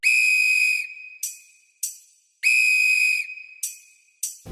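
A whistle is blown loud and close in a repeating pattern: a long sustained blast followed by two short chirps, then the same sequence again, ending in a final short toot.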